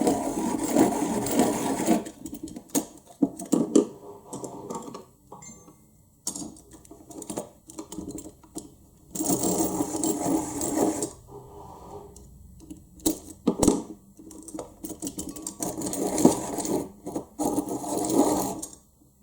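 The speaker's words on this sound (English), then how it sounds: "Let me just do some sharpening." A Prismacolor colored pencil is turned in a sharpener, giving repeated bursts of close, scratchy grinding separated by short pauses, with no talking.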